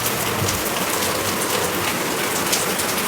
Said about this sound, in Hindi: आज बारिश भी बहुत ज़्यादा है।